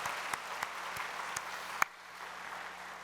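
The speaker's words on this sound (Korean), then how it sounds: "한번 격려의 박수 한번 보내주시죠" Light applause from a church congregation during a Sunday afternoon service, sparse and fairly distant, with a few sharper claps standing out before it thins and fades.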